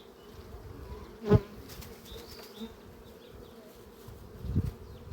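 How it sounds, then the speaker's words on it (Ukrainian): Bees buzz in a steady, low drone throughout from a full hive, with a couple of brief thumps and rustles close by. "Повний кульок бджоли"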